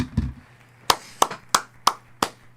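Sparse hand claps, about six sharp claps spaced roughly a third of a second apart, close and dry over a quiet background, from a lone person applauding during a live sports card break stream.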